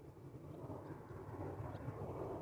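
Jet airliner taking off at Amsterdam Schiphol Airport, a steady low engine roar heard from a distance with wind noise against the microphone, no talking.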